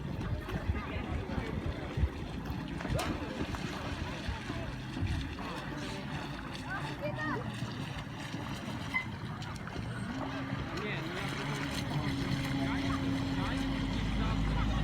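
Falcon 3542 remote-controlled carp bait boat with a reinforced motor system runs on the water, a steady low motor drone with wind and water noise, its hum growing slightly stronger in the final seconds, no talking.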